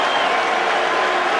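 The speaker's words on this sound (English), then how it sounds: "a resounding cheer for England as they come back out again." A cricket crowd cheers and applauds England during a 2011 England vs India Test match, a dense, steady roar of clapping and voices that fills the whole stretch without a break.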